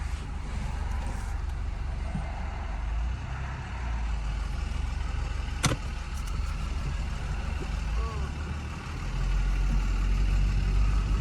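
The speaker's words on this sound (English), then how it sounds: "we're going to take it on a nice little road test here and see how this thing drives forward" A car with a repaired 6T45 transmission rolls along on a road test, its engine and road noise forming a steady, fairly loud drone that swells slightly near the end.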